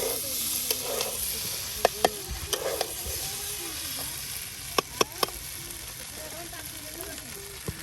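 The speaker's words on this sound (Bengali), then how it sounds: "একদম চিকন চাউলগুলো ডালের সাথে কত সুন্দর করে মশলার সাথে উলট পালট করে দেওয়া হচ্ছে" Fine rice stirred with lentils and spices while khichuri cooks: steady frying sizzle with scraping spoon clicks and knocks against the pot, a voice talking intermittently over it.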